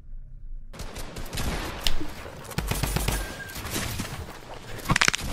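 Rapid gunfire in a horror-themed video game, dense bursts of shots and impacts filling the scene with a few louder cracks, no talking.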